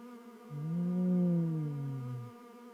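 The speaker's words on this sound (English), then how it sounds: "The bees buzz around the ball." A single steady buzzing drone rises and holds for about two seconds before fading, a low, smooth hum like a bee, sounded alone.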